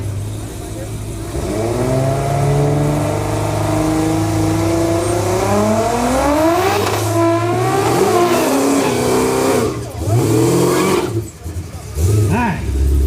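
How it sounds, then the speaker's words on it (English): Drag race cars, a Supra and a Camaro, at a no-prep race event, with a loud engine revving and climbing in pitch through a burnout, a crowd and voices talking over it. "Just wait until he does his burnout."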